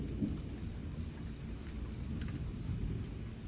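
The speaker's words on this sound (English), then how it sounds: "Here comes the storm." Thunderstorm with steady rain and low rumbling thunder, a continuous wash of noise without distinct claps.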